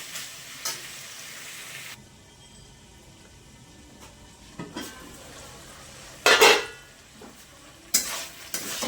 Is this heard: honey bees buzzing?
no